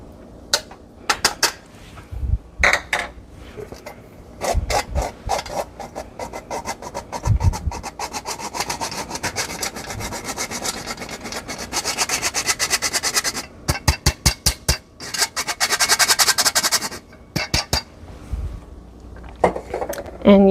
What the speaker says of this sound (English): We're going to be sifting that over the mixture.